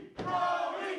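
A wrestling crowd at an IWE BattleZone event roars and shouts in a sustained loud swell, urging on a struggling wrestler.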